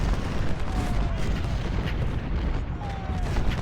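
Whitworth cannons and 24-pounder howitzers fire in a Civil War battle at Fredericksburg in a strategy game, a dense, continuous rumble of distant artillery booms layered under battlefield noise throughout.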